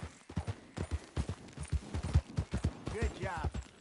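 Horse hooves clip-clop steadily as the animal is ridden, a close, busy run of hoof beats with a brief higher vocal sound near the end.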